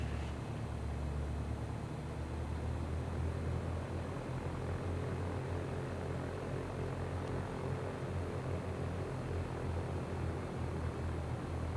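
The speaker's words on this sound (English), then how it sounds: "Skyhawk 15 Juliet Golf is departing runway 27" A Cessna Skyhawk in the X-Plane 11 flight simulator takes off from runway 27, its propeller engine producing a steady, loud, unbroken drone for the whole stretch.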